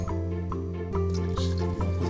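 Bun rieu crab paste is stirred with a little water in a bowl, giving soft wet squishes and drips at irregular moments beneath a steady humming tone.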